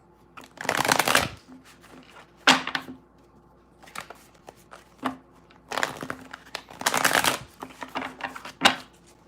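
Tarot cards are shuffled in repeated riffling bursts with brief pauses and a few sharp taps between, close and fairly quiet, with no talking.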